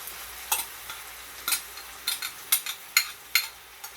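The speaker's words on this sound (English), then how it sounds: "We're going to let that simmer." A sauce with bok choy in a pan gives soft sizzling with a series of light stirring scrapes and taps at an uneven rhythm, heard close and fairly quiet, with no talking.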